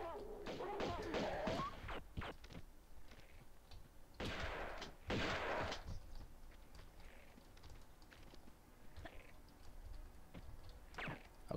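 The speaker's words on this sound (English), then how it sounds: "Oh shit, I get to use the shotgun." Shotgun fire in the horror game The Ancient Jade Mask: several heavy, close blasts and thuds spaced irregularly amid combat noise, with faint talk in between.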